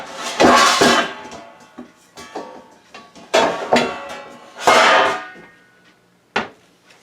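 A pie pan picked up and set down on a counter, giving several loud, close metallic clanks and rattles in bursts with short pauses between them, and a final sharp knock.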